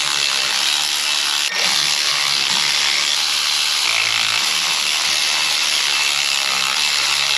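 Ratchet chasing the bolt threads on the crank pulley of a 1939 Caterpillar D4 tractor, a steady loud harsh grinding-clicking noise running continuously, close up.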